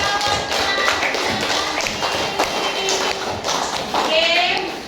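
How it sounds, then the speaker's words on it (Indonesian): Schoolchildren in a third-grade primary classroom clap their hands for classmates, a dense scatter of many overlapping claps running steadily throughout, with voices and chatter mixed in. "kasih tepuk tangan buat kawan kita"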